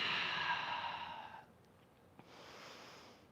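A long, audible exhale during a yoga flow, a soft breathy sigh lasting about a second and a half, followed by a fainter breath, close and alone.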